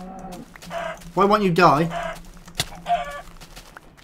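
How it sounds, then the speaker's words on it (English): A Minecraft chicken gives a few short clucks and squawks in a game setting, mixed in among a player's excited spoken lines. "It's a demon chicken."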